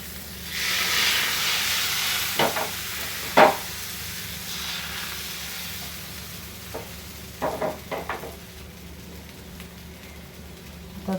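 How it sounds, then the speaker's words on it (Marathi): Rice flour batter for ghavan is stirred with occasional light clinks of a utensil against the bowl, over a steady close hiss from the hot pan. "आणि प्रत्येक वेळी ढवळून घ्यायचं पीठ"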